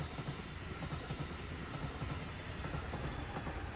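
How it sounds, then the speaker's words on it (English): A Brightline test train running brake tests past a road crossing, a steady loud rumble of rolling wheels with rhythmic clacking over the rails and a faint high squeal, heard close throughout. "The train here today is doing brake testing across crossings"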